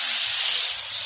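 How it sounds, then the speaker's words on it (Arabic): Spinach frying in a hot pan, a loud, steady, close sizzle and hiss that fills the whole moment with no pauses or talk. "نجيب معلقه سبانخ هنا في الطاسه كده عشان نطرح الدقه كده"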